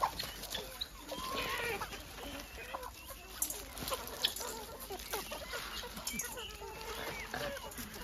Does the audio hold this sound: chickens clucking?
yes